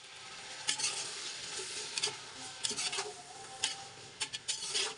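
Peas, carrots and potatoes sautéed for vegetable pulao over medium-low heat, a steady close sizzle broken by repeated sharp scrapes and stirring strokes of a utensil against the pan, with no voices.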